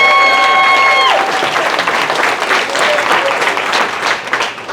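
Comedy club crowd in Raleigh breaks into loud, sustained applause and cheering for veterans in the audience, starting about a second in and continuing dense and steady to the end.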